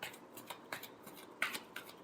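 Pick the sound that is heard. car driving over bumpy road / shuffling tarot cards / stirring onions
shuffling tarot cards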